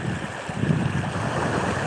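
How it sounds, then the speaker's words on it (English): Ocean waves rolling onto a sandy shore with wind blowing across the microphone, a steady broadband wash that swells slightly midway and stays loud and continuous, with no voices. "As the air caresses, the waves moves."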